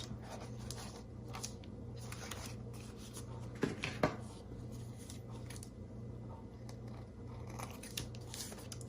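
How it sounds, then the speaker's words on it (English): Scissors trimming excess paper from a handmade no-sew journal: faint crisp snips and rustling against steady background hum, with a brief louder pair of cuts near the middle. "And then we're going to cut off the excess."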